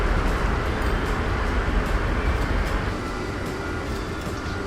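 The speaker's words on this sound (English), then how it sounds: "monstrous amount of trams all leave the station" Trams rolling out of a station in the Transport Fever game, a steady dense rumble of rail wheels and car noise running continuously and fairly loud, fading slightly toward the end.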